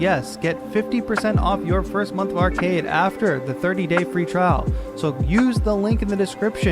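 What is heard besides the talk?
None of the usual background noises is heard.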